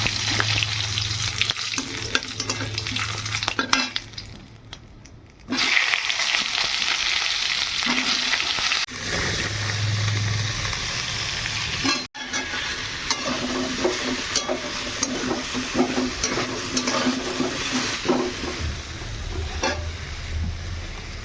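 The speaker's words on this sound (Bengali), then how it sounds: "আর এই তেলে জিরে ফোড়ন দেবো, এই জিরে ফোড়ন দিয়েছি আর এই যে শুকনো লঙ্কা।" Cumin seeds and dried red chillies sizzle and crackle in hot oil in a home kitchen, a steady loud frying hiss with stirring scrapes, briefly dropping away once before resuming.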